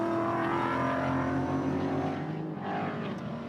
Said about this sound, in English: A couple of Caymans having a great battle there, going into turn 3.